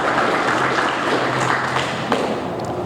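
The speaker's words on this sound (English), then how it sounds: "I think that deserves a round of applause." Applause from the audience at a fire station opening ceremony, a steady broadband clatter of clapping that fades slightly toward the end, with a low hum beneath.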